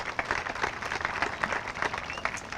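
At a grand opening event, a small crowd applauds with scattered, fairly faint clapping, uneven individual claps blending into a light steady patter.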